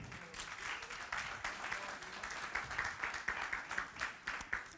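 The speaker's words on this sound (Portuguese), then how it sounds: "Parabéns e uma salva de palmas para eles" A church audience breaks into sustained applause at a couples' school gathering, dense clapping at moderate distance, continuing evenly throughout with no speech.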